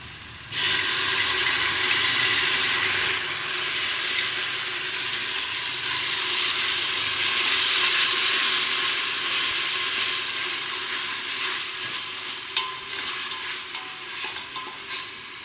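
Ginger garlic paste sizzles and fries with onions in a hot pan, a steady hiss broken by occasional stirring scrapes, close and continuous with no speech.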